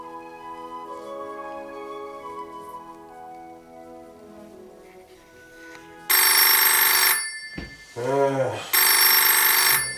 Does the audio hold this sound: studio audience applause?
no